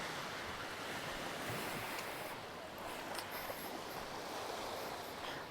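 Surf washes onto a beach on a coastal trip from Cairns to Fitzroy, a constant, soft broadband rush of waves with no distinct breaks, steady and fairly faint throughout, without talk.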